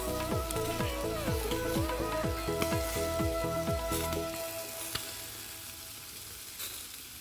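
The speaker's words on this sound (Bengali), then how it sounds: "এই যে দেখেন বারবিকিউর মধ্যে হচ্ছে তেল লাগানো হচ্ছে" Chicken barbecue sizzles on a grill as oil is brushed over it. A soft, crackling hiss runs throughout, with warbling tones over it at first, and it grows quieter toward the end.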